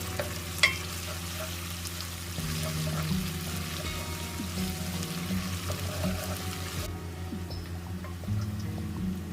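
Onion, red chillies, cumin and ginger garlic paste frying in a pan for dhaba-style urad dal, a steady sizzle with stirring and scraping, close and continuous with no talk.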